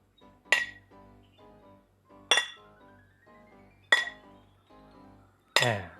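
Four separate sharp glass clinks and crashes spaced about evenly apart, each followed by a ringing decay, the last one louder and fuller like shattering, played as a glass-break detection test for a TP-Link Tapo C246D security camera.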